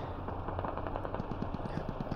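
Distant automatic gunfire and rapid bursts in the Squad military shooter game, steady rattling volleys filling the background with no talk.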